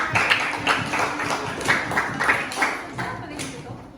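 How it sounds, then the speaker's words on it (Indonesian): A classroom of students claps in a quick rhythmic pattern during an Islamic religious studies lesson, with bursts close together and voices mixed in. "beri tepuk tangan"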